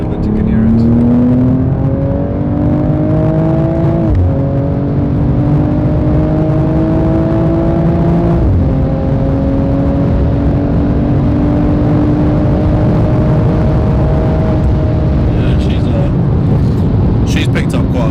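A second-generation BMW M240 with a downpipe, intake, charge pipes and OPF delete pulls hard through several gear changes. The loud engine drone rises in pitch, drops at each shift and climbs again, heard from inside the car.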